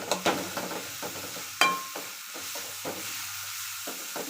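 Tempering for North Karnataka pundi palle cooking in a pan: intermittent sizzles and spatula scrapes, with a sharp metallic clink near the middle and quieter stirring afterward, close and unaccompanied by speech.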